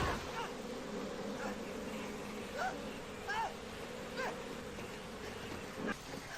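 Bees swarm around a hive outdoors, a steady insect buzz running throughout with several rising whine-like passes, while people speak over it.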